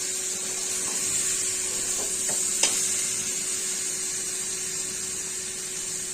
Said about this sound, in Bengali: এখন আমি এর মধ্যে জল দিয়ে দেবো।